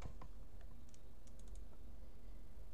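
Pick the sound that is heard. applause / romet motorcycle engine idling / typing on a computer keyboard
typing on a computer keyboard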